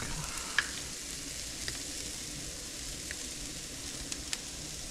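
Garlic sizzling in a hot pan at medium heat, a steady, even hiss with a few faint ticks and pops, close but fairly quiet, with no voice.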